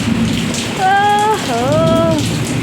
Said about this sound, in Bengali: দেখো কি জোরে বৃষ্টি এলো